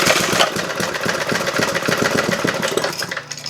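A previously dead Briggs & Stratton small engine, fitted with a new air cleaner and running without a throttle mechanism, chugs loudly and close with a fast, even putter that turns slightly uneven at the end.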